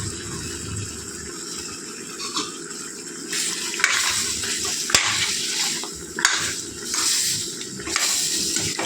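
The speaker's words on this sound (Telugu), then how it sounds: "చికెన్ వేగిందండి. ఇప్పుడు అల్లం వెల్లిపాయ వేస్తాను." Ginger garlic paste sizzling in a pan with chicken pieces as it is stirred, a steady close frying hiss broken by scraping strokes of a spoon, with no talking.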